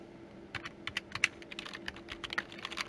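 Fingers typing on a computer keyboard, a quick irregular run of light, close key clicks over about three seconds against a quiet background hum.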